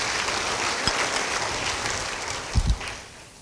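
Church congregation giving a short burst of applause during a sermon on holy communion, a brief spell of clapping from the gathered crowd with a couple of louder thumps near the end.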